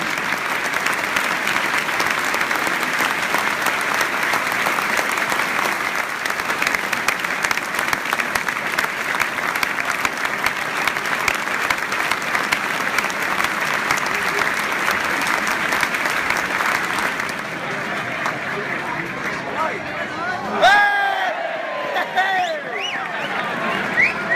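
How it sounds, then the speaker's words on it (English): A football stadium crowd at Brentford gives a minute's applause in tribute, a vast, continuous wash of clapping that rolls on steadily before thinning out near the end, when some voices and whistles emerge. "Please join together in a minute's applause as we celebrate the life of a man who was an integral part of our long history"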